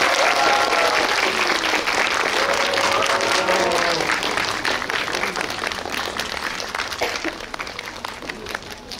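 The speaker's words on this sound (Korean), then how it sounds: "박수 부탁드립니다." An audience at a Korean film screening event applauds as the director, cast and original author are introduced, a dense steady clapping that thins out toward the end.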